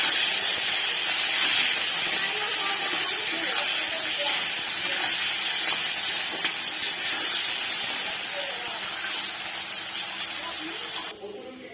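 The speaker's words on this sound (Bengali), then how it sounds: "আলুটা ভেজে নেব।" Potatoes coated with turmeric and salt frying in hot oil, a steady loud hissing sizzle that runs throughout with little change, fading slightly toward the end.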